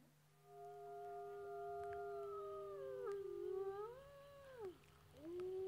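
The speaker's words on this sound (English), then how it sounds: "Okay, so that's the sound of the wolf" A wolf's howl, played from a recording, rises into a long sustained tone, then bends and falls in several drawn-out, wavering phrases. The howl is fairly faint and sits over a low steady hum.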